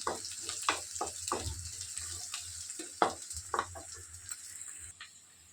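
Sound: onions frying in oil

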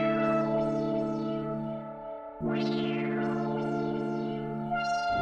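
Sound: Trifecta Bezman preset synth lead pattern

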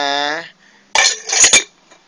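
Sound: pot lid being put back on a pot

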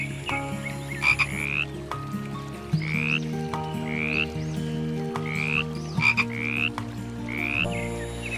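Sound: frogs croaking

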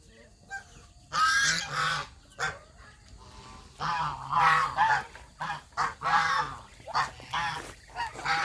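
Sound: geese honking

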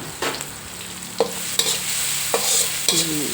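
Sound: chili and garlic frying in oil

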